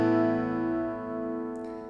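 A single open-position strummed acoustic guitar chord, the second chord of a song with the top string left out, ringing out as a sustained, fairly quiet tone that slowly decays, alone.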